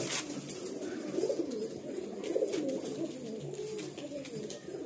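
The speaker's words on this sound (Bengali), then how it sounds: "এটা বলে টেডি পায়রা" Teddy pigeons coo in a low, continuous murmur, close by, with soft overlapping calls and faint chirps behind them.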